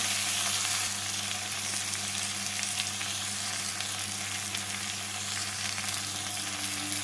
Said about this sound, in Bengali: হালকা করে ভেজে নিচ্ছি সবজিগুলোকে